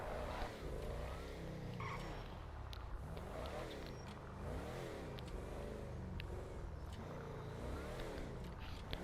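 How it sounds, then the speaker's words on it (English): An SUV drives and accelerates in GTA Online, its engine droning steadily with wavering pitch as it revs, loud and continuous throughout, with some speech-like sound mixed in. "So this is a SUV, and I really enjoy driving this car around because it has a lot of traction and the acceleration is pretty good as well."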